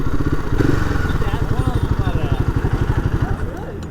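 Royal Enfield Himalayan 450 motorcycle engine running close by, a steady loud thumping pulse with a slight rev early on, settling into an even idle-like beat.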